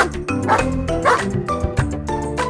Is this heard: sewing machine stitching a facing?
no